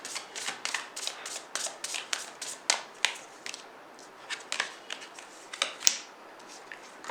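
Tarot cards are shuffled by hand in a run of quick, crisp riffling bursts, about a dozen close-up flurries in an uneven rhythm with brief pauses between them.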